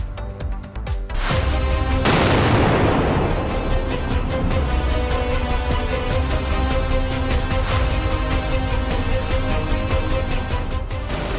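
A sudden loud factory explosion bursts out, followed by a long roaring, crackling rumble of fire that stays heavy and continuous, with no voices.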